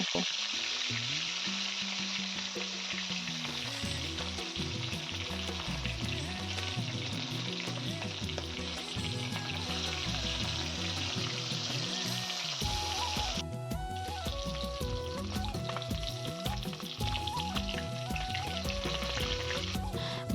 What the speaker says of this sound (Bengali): এখন মাছগুলো দুটো দুটো করে ভেজে নেব